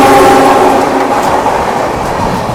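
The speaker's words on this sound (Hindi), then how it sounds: "सामने से कोई तो ट्रेन है जो यहाँ से क्रॉसिंग कर रही है टुंडला जंक्शन में" Loud, continuous roar of a Shatabdi Express passenger train rushing past at speed near Tundla Junction, a dense rumble with rhythmic wheel clatter, heard very close throughout with no voices.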